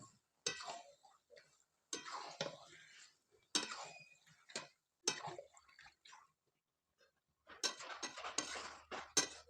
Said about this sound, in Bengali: মাংসটা তুলে দিয়ে একটু ভালো করে নেড়ে নেবো